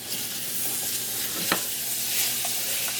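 In a pot taken off the heat, chopped yellow onion is stirred into a roux, giving a faint, steady sizzle with one soft spoon knock; quiet and close, with no talking.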